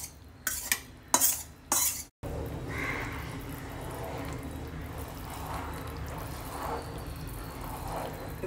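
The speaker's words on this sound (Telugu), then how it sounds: "ఇది బాగా దగ్గర అయ్యేలాగా కలుపుకుందాము" Gram flour mixture is stirred into thick coffee sugar syrup for Mysore pak with a steady soft scraping and bubbling in a pot after a few sharp knocks at the start.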